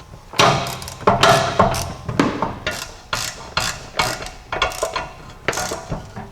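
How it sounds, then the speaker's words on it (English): A hand ratchet clicks in quick bursts of pawl ratcheting, close and loud, while snugging up new shock absorber bolts on a Jeep Cherokee XJ during a suspension lift install. "I'm just going to snug them up with a ratchet"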